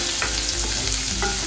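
Chopped onion frying in a pan with mustard seeds, cumin and curry leaves, a dense loud sizzle with scraping stir strokes of a spoon through the mixture.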